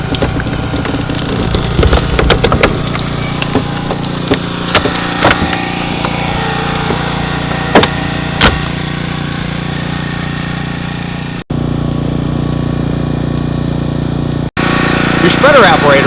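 Hydraulic rescue spreader working during a vehicle extrication training drill, with a loud, steady engine-driven power unit drone, scattered creaks and cracks of metal, and voices talking over it.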